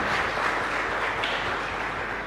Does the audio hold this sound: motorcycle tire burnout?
no